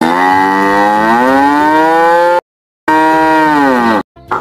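A cow gives two long, loud, close moos, each a steady drawn-out low call, separated by a brief silence, from a children's animal-name video.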